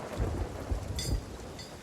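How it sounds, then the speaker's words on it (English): Thunderstorm while fishing at sea in Sea of Thieves, with steady heavy rain hissing, low thunder rumbles rolling underneath and a few brighter crackles, no voices. "Clarity's sake, I am fishing in a storm."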